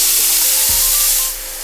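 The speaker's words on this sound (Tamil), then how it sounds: "இப்போ இதை சிறிது நேரம் இப்படி வதக்கிட்டு நம்ம பொடியாக அரிந்த வெங்காயத்தை போடலாம்" Chopped onions dropped into hot oil with spices sizzle loudly in a pan for a soy chunk curry, a steady close hiss that eases off near the end.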